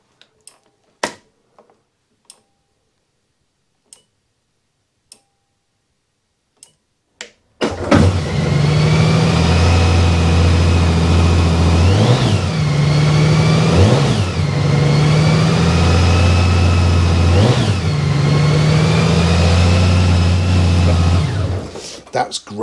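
A motorbike with a DCT gearbox idles loudly and steadily close by in a garage, with several repeated rev swells rising and falling over the rumble, after a stretch of quiet clicks and handling noises.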